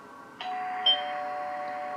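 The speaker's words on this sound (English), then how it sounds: "I heard the doorbell ringing." A doorbell at home rings twice, two bright chimes about half a second apart with a lingering tone fading beneath, heard clearly and alone without any talking.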